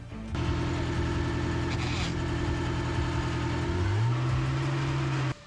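A 1931 Bugatti Type 51 racing car's engine runs steadily and loud and close, then its pitch climbs and holds near the end before cutting off abruptly.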